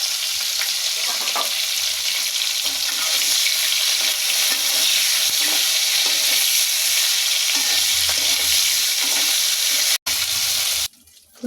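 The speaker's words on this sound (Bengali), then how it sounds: "এখন ফুলকপিগুলোকে হালকা করে ভেজে" Cauliflower fries lightly in a pan, giving a continuous bright hiss and sizzle with faint stirring scrapes, steady throughout before dropping off sharply near the end.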